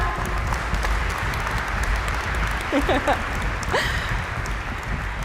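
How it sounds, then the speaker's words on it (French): Audience applause at the JIQ 2016 event for the NAO robot, a steady, dense wash of clapping that holds evenly throughout, with a few brief voices rising over it. "On peut l'applaudir, notre ami Nao."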